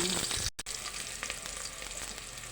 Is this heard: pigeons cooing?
no